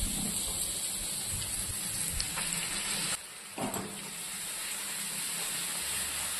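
Onion paste frying in oil together with garlic paste, a steady close sizzle and hiss that breaks off briefly partway through, then resumes alone.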